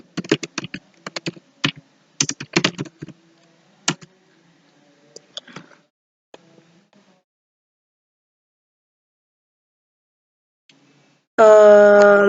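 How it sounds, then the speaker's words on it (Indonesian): Computer keyboard typing commands, bursts of sharp close key clicks in an irregular rhythm over several seconds, then quiet, ending with a brief unrelated tonal sound. "Caranya adalah kita mengetikkan sintaks seperti berikut ini."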